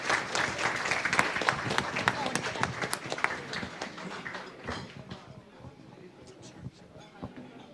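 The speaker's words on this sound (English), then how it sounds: "Round of applause, everyone" Clapping from the audience at an Othello prize ceremony, sharp individual claps heavy at first and gradually thinning and fading, with voices talking over it.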